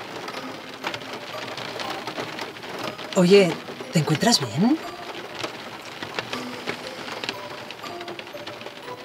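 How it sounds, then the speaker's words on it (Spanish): Steady rain pours outside a car stopped on a road by a curve, a constant hiss through the whole stretch while voices speak over it. "Me está lloviendo."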